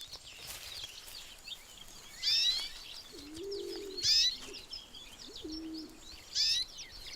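Canaries in the Canary Islands call from around a fruiting arbutus tree. Several bright, twittering chirp bursts come at intervals, mixed with low cooing notes from another bird, over a soft outdoor background.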